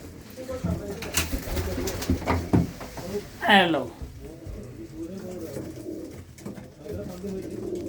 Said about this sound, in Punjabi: ਕਬੂਤਰਾਂ ਦਾ ਲਾ ਜਵਾਬ ਪਰਿੰਦੇ ਨੇ